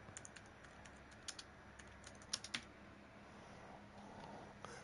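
Quiet keyboard typing on a computer, a scattering of light clicks in short irregular runs with pauses between, close but faint against a soft background hum, no talking.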